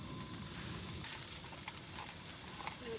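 A cold, pre-buttered English muffin fries in a pan at a lakeside camp, giving a soft, steady crackling sizzle with small pops, faint and close, with no talking.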